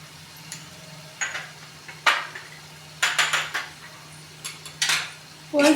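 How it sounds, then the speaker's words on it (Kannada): Spices such as turmeric being stirred into a sev tamatar sabji in a cooking pan, heard as scattered scraping and clinking of a spoon against metal, with a low steady background hum. "ಒಂದು ಸರಿ ಮತ್ತೆ ಮಿಕ್ಸ್ ಮಾಡ್ಕೋಬೇಕು"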